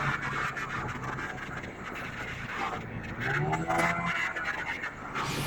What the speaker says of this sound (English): I sat on the back of a snowmobile and held on for dear life while my sister hit the throttle.